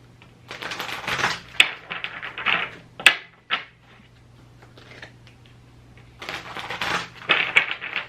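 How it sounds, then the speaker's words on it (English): A deck of reading cards is shuffled by hand in bursts of rapid riffling and crisp slaps, with brief pauses between rounds, close and fairly loud with no talking. "Let me shuffle them up and get No One Cares a card."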